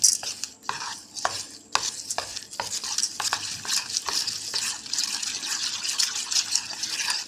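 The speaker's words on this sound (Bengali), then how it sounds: "চিনিটা দিয়ে আবারও ভালোভাবে মিক্স করে নিতে হবে।" A spoon stirs soaked semolina batter with sugar for a banana oil pitha, giving close, steady scraping and swishing strokes against the bowl, with sharper taps at the start and no talking.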